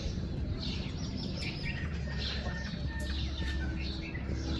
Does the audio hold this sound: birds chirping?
yes